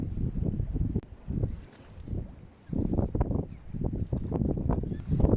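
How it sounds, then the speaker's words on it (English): Gusty wind buffets the microphone in loud, low rumbling bursts that rise and fall throughout, with no talking. "Well, it's a little bit windy."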